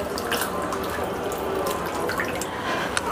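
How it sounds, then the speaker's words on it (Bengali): Raw chicken being washed under a running kitchen tap, the water pouring in a continuous close splash with small drips and sloshes as the pieces are handled. "চিকেনটা পুরো ধুয়ে নিয়েছি ফ্রেশ করে একদম"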